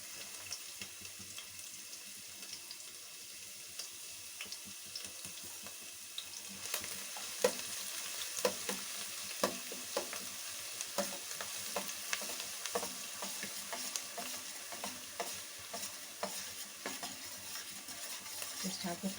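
Chopped garlic and ginger sizzle steadily in a hot pan for street-style fried rice, with crackling oil under scattered clinks and scrapes of a stirring spoon, close and continuous.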